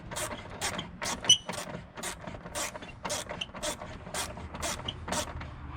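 Ratchet wrench tightening the battery hold-down clamp on a 2014–2017 Subaru Crosstrek, steady close clicks repeating about twice a second with no talking.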